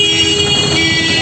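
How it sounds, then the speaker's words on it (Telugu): A traffic jam near Kondareddy Bridge in Kurnool, with a dense, loud wash of engines and a sustained horn tone hanging over the constant road noise. "ఇక్కడ ఫుల్గా ట్రాఫిక్ జామ్ ఉంది"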